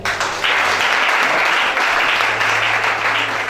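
A church congregation applauding during a Sunday worship service, a dense, steady wash of clapping that holds loud and continuous throughout with a faint low hum beneath.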